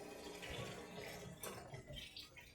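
Water draining out of a depressurizing Pentair Clean and Clear Plus cartridge pool filter, a faint continuous trickle and gurgle with occasional louder splashes and drips.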